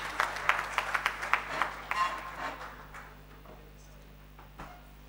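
Applause from an indoor audience for Gujarat Chief Minister Narendra Modi's speech at a YMCA national consultation, with dense, close clapping for about two seconds that thins and fades to a quiet room.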